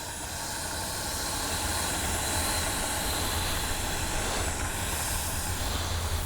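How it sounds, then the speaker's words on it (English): A twin 64mm EDF RC F-15 jet flying overhead, its ducted fans giving a steady, loud, airy whine with broad hiss and low rumble that holds constant throughout. "That twin 64 just sounds so good."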